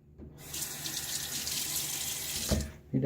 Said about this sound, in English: I'm going to add some water to this lather.